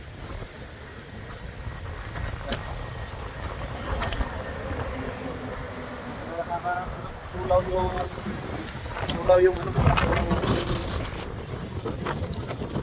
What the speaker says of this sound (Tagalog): Lakas yung hangin.